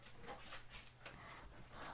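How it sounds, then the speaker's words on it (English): A dog pants quietly indoors, quick soft breaths repeating in an even rhythm, faint and close with no voices. "my doggy just came in."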